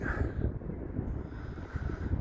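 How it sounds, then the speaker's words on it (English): Wind buffets the microphone in a continuous low rumble at the seaside by North Pier, steady and loud with no voices. "Every now and again it just gets so windy."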